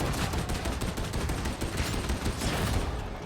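Gunfire in Warhammer 40,000: Darktide, a dense continuous barrage of rapid shots, loud and close, filling the whole moment without talk.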